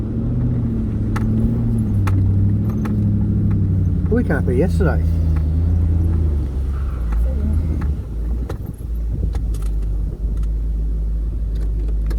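A Nissan Y62 Patrol engine chuffs and rumbles in second low gear while climbing off-road at a 4WD park. The deep, uneven throb continues under people talking inside the vehicle.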